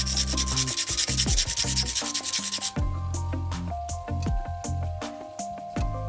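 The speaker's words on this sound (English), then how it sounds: "So now I'm gonna use hand file to file around it." A hand file rasps around the edge of a seashell in quick, rhythmic strokes that are loud and close, then gives way to sparser scrapes and knocks.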